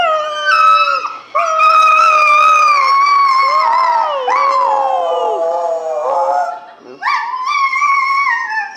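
A small female dog howls in long, wavering, song-like tones, several sustained howls with short breaks, close and loud in front of a stand-up comedy audience.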